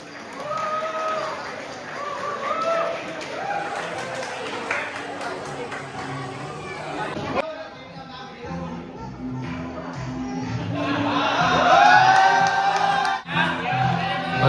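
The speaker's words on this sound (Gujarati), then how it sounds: "બધા જ લોકોને એક વિનંતી છે કે પોતાની જગ્યાએ ઊભા થઈને એ લોકોને તાળીઓથી વધાવે" Audience at a creator meetup in Sasan Gir rising to their feet with applause and cheers, a steady crowd roar that swells louder toward the end, with a voice over a loudspeaker speaking through the first half.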